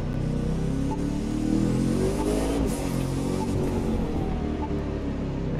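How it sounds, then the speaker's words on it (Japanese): Loud, continuous engine roar of a Bugatti Chiron heard from inside the car on a highway, with rising and falling revs over steady road noise. "エンジン音すごいな"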